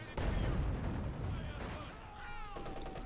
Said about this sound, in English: Nice hit there from the sniper